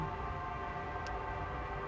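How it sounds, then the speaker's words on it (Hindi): Steady, sustained vehicle horn blasts layered over a continuous rumble of traffic, loud and unbroken throughout with no voices. "इतने हॉर्न की आवाज़ें क्यों आ रही हैं"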